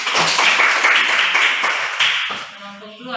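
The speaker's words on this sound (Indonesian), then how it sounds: "Tepuk tangan." A classroom group of students clapping their hands together in quick, dense applause, loud and continuous before tapering off, with a voice starting to speak near the end.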